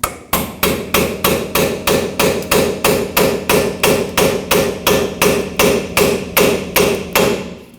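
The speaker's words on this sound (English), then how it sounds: "take a pry bar or a chisel or something that'll fit in here nice and tight, hammer it in" A pry bar is hammered into a steering knuckle of a 2005-2021 Nissan Frontier 2WD to spread it for lower ball joint removal, giving a steady series of about twenty sharp, loud metallic blows at an even rhythm, close by with no talk.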